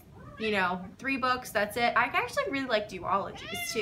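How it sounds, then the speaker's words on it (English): A pet cat meows repeatedly beneath a person talking close to the microphone; the cries are soft and partly masked by the steady speech. "That's my cat meowing if you're wondering"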